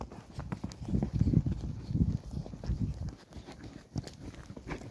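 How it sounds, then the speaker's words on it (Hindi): A horse trotting in Kuwait, hooves clip-clopping in a steady quick rhythm at close range, with faint background noise. "ये मैं काम दे रहा हूँ अभी ट्रॉट घोड़े को"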